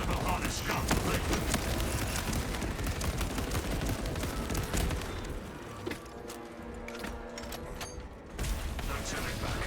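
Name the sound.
servo harness gun firing in a video game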